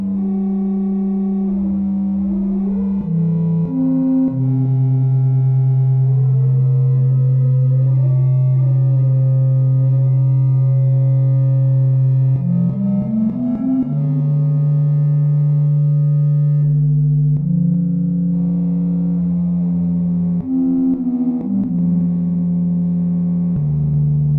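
An Elektron Syntakt synthesizer plays a mono sine wave under audio rate modulation at changing speeds, a loud sustained tone with bending, sliding pitches and shifting buzzy overtones, alone without talk.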